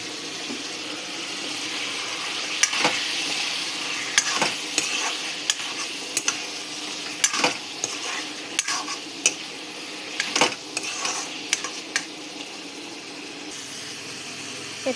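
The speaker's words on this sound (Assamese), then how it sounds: "এতিয়া অলপ মজিব দিম" Food frying in a pan is stirred with a utensil in a home kitchen, giving irregular scraping clinks and taps over a soft steady sizzle at close range.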